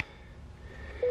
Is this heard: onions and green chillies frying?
no